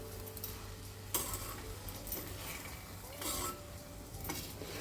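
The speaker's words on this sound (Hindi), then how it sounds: "अच्छे से मिक्स करना है हमें" A spoon scrapes and knocks around a metal pan in repeated strokes, stirring moong sprouts, with light clinks and a faint sizzle underneath.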